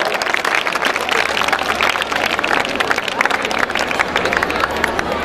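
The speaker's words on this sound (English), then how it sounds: "Give them a huge round of applause." An audience claps and cheers at a school silver jubilee event, a dense, lively round of applause that continues steadily throughout with crowd murmur underneath.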